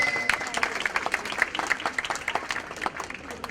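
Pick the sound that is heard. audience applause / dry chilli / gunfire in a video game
audience applause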